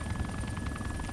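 Rotor thump of a Chinook helicopter in a video game, a brief, steady, fairly low chopping drone with no other sounds.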